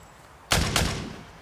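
Two sharp gunshots in quick succession break a quiet background during a police callout, loud and close, with a broad burst and a long decaying echo after each shot.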